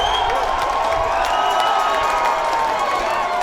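A large crowd cheers and claps in an arena, a dense continuous roar of voices and applause at steady loudness with no clear speech on top.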